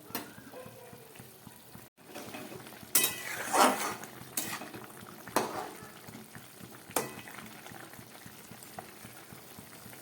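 Drumstick and potato curry gravy bubbling in a pan makes a low, soft simmer, broken by several loud scraping clatters of a spoon against the pan.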